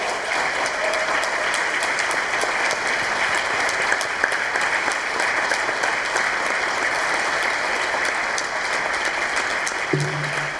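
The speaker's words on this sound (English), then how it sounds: "please stand, and let's give a round of applause" Steady, sustained applause from a large crowd at an awards ceremony, dense clapping throughout without a break.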